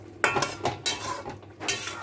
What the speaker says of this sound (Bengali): চিনিটাকে ভালো করে মিক্স করে নেব